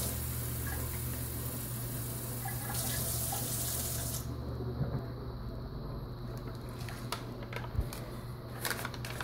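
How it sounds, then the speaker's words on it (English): Tap water runs into a container while a cinnamon-roll breakfast is made, a steady close rush that shifts tone partway through as the flow changes. "I'm just gonna add the water now"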